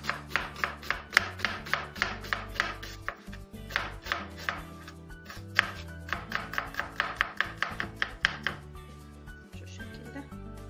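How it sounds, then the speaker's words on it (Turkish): A knife chops rhythmically on a cutting board, quick sharp knocks in steady runs with brief pauses, close and clear, no talking. "Yani bir bütün soğan doğrayacağım."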